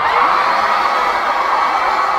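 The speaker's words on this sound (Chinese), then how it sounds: "那让我听听大家的尖叫声" A concert crowd at a world tour show in Taipei screams and cheers continuously, a dense, loud wall of high-pitched voices with no break.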